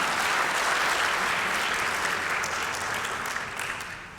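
Audience applause at a campus panel talk, a dense steady wash of many hands clapping that holds loud throughout and tapers slightly toward the end, with no voices over it.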